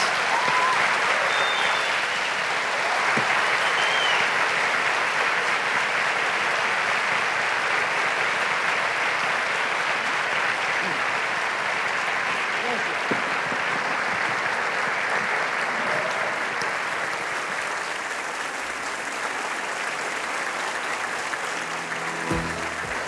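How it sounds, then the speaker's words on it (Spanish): Sustained audience applause at the Bogotá Book Fair for Dr. Rodolfo Llinás, a dense, steady wash of many clapping hands lasting over twenty seconds and easing slightly near the end. "Les pido un aplauso para el doctor Ginás"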